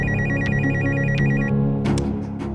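A telephone rings in repeated electronic bursts in a TV drama scene, loud and close, then stops abruptly, followed by a few brief clicks.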